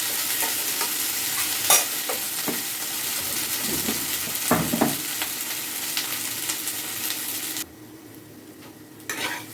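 Drumsticks and potatoes deep-fry in hot oil, close and loud, with a steady sizzle broken by stirring clinks and scrapes of a utensil. The sizzle briefly softens near the end, then returns.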